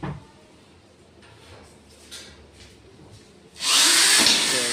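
A power drill drives screws into a PVC ceiling, quiet handling noise at first, then a loud, sustained whir bursting in near the end, close by and alone.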